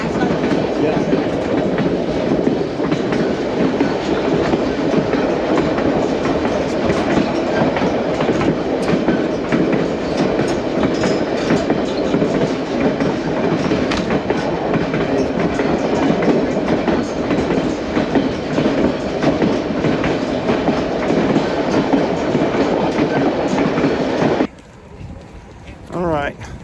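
White Pass train in Alaska rolling steadily along its rails, a continuous rumbling rattle with faint clickety-clack running for about 24 seconds before abruptly dropping away; voices murmur beneath the train noise.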